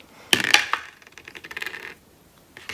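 Astrology dice dropped and rolled, a few bright, close clacks followed by a softer rattling tumble that fades as they come to rest.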